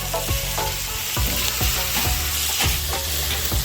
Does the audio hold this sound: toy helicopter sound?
no